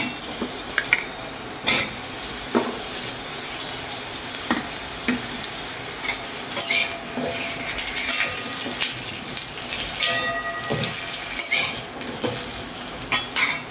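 Potatoes tumble into a pan of simmering carp (katla) fish curry, bringing a soft sizzle along with scattered clinks and scrapes of a utensil stirring against the pan, all close and without talk.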